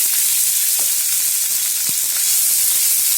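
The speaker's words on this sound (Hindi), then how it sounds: "अब उसमें हम जीरा ऐड करेंगे, प्याज डालेंगे बारीक कटा हुआ।" Cumin seeds and finely chopped onion frying in about two tablespoons of hot oil for a stuffed bitter gourd gravy, a steady close, loud sizzle with brief crackles and a soft stir, no talking.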